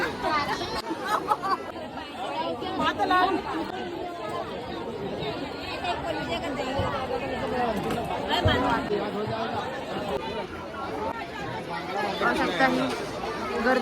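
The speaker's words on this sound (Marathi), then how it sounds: "गर्दी" A busy, crowded fish market in Malad, Maharashtra, full of steady overlapping chatter and babble from many people, a dense murmur that continues throughout.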